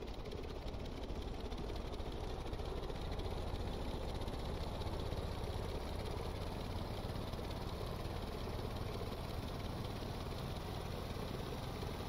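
The engine of an ultralight aircraft in Stormworks runs at full throttle as a steady, dense mechanical drone. It stays constant and unbroken throughout at moderate, even loudness, with no talking.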